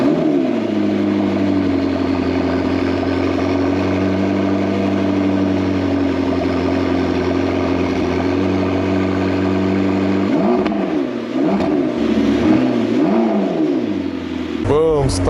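Crashed, abandoned McLaren 650S Spider with 739 miles on the clock: the engine runs at a steady, loud idle for about ten seconds, then gives several sharp throttle blips near the end.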